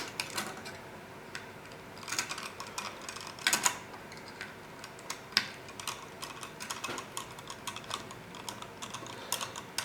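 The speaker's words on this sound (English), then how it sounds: "you're going to draw that down tight, seating the bolt nicely into the Nylox nut so that it will not come loose in the future" A bolt is tightened down into a Nylox nut, producing a run of small, irregular clicks and ticks at close range, with a few louder snaps mixed in.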